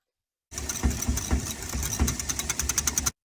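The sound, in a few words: whisking salt and lemon juice dressing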